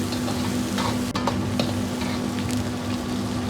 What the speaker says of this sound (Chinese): 接着下入香料，炒出香料里边多余的水分